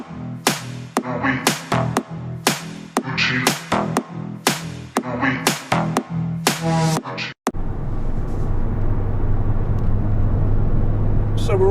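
A car cruises along a motorway, a steady rumble of road and engine noise from inside the cabin; the first half is masked by loud rhythmic music, then the drive continues alone with a constant drone.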